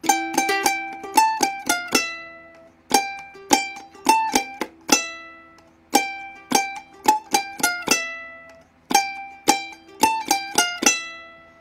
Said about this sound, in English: If I'm doing a claw hammer, it sounds like this.